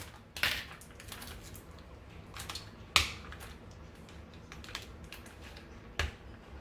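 A knife cuts through pitted olives on a board for a chicken gyro salad, giving a few faint, sharp taps and clicks spaced a few seconds apart in a quiet kitchen.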